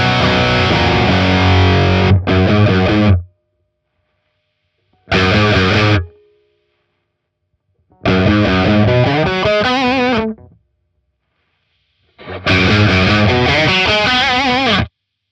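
Electric guitar through a JHS Haunting Mids distortion pedal, loud fuzzy chords and riffs in four bursts with silent gaps, the midrange shifting between passes as the mids are boosted and cut.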